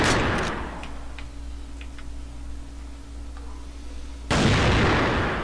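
In the Counter-Strike video game, a grenade blast fades out with a sharp, noisy tail, followed by faint ticking and a low hum before a second loud, broad burst erupts near the end.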